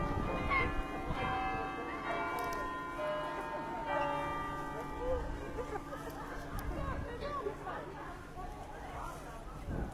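Church bells ringing in York, UK, a repeated clanging peal carrying across the city over a constant murmur of crowd chatter and nearby voices.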